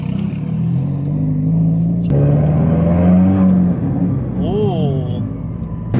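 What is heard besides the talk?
Subaru WRX with new larger-diameter exhaust accelerating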